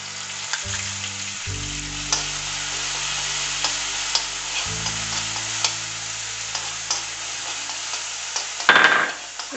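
Crushed garlic and green chillies fry with cumin in hot oil, giving a steady, close sizzle broken by light stirring clicks and a louder burst of spattering near the end.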